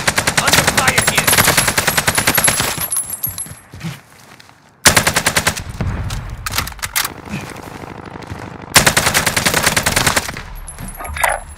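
Gunfire in the video game Warzone on Rebirth Island: rapid automatic bursts, loud and close, come in three separate volleys with short quieter gaps between them.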